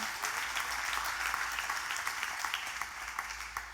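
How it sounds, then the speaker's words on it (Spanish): A church congregation applauding during a sermon, an even roar of many hands clapping at moderate loudness with no voices over it. "Dale ese aplauso a Dios si lo crees así."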